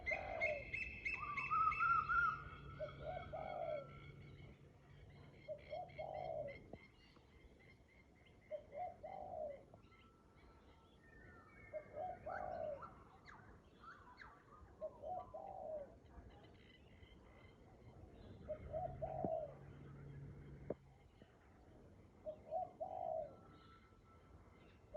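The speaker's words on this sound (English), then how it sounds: "But we can still hear those beautiful birds." Doves coo steadily on a Queensland morning, a soft repeated call every couple of seconds, while other birds add scattered chirps and whistles in the quiet background.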